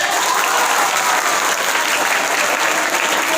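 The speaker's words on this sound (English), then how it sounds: "Correct answer, clap." Quiz competition audience clapping for a correct answer, a dense, steady burst of many hands that stays loud and even throughout, with no break.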